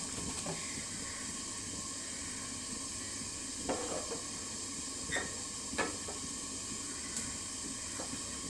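Fish pieces are laid one by one into hot oil, producing a quiet, steady hiss with a few faint clicks and taps.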